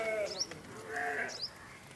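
Sheep bleating in a farm flock, two or three short wavering bleats close by, with faint background noise and a few bird-like chirps between them.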